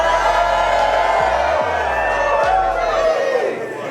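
Large crowd at a Dallas real estate popup event screaming and cheering loudly and continuously, with whoops and shouts, fading slightly at the end.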